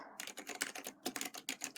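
Fast continuous typing on the keyboard of an IBM PC Convertible 5140, a dense, quiet run of close key clicks that hardly pauses.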